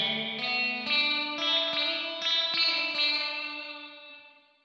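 Electric guitar played through a Kemper Profiler spring reverb set to high drip, ringing chords and plucked notes with splashy, wet reverb tails that swell and fade out at the end.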